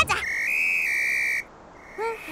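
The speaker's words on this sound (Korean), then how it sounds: "은하의 호루라기 소리야!" Cartoon rescue whistle from Super Wings, a bright steady electronic tone held for over a second, then a pause and a short rising chirp, loud and clear with no talking.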